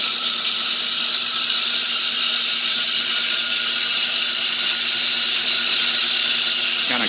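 Jacobsen mower reel spinning during backlapping with lapping compound, a loud, constant high whine and grinding hum held steady without pause, close up, no talk.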